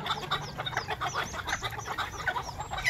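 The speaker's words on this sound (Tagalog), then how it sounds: "Pakainin na natin yung mga bantam." Bantam chickens at feeding time cluck and chatter continuously nearby, a busy overlapping flock of short calls with no voices.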